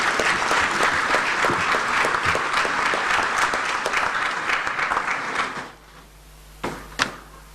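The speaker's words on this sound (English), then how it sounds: "Please, another round of applause." Steady applause from a conference audience fills most of the stretch, then fades out, leaving a couple of faint knocks in near silence.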